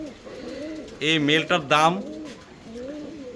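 Fancy pigeons coo in repeated rolling phrases at close range, with someone speaking over and between the calls.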